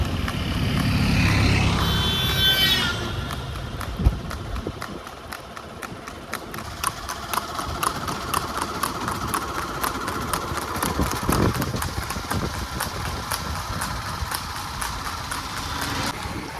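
A mare's hooves clip-clop on a road in a brisk, regular rhythm, close and prominent, with a passing vehicle engine rumbling in the background early on.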